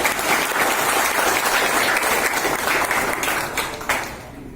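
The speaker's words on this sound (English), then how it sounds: "have a big round of applause for that" An audience claps in a steady, dense round of applause throughout, close and fairly loud, tapering slightly at the end.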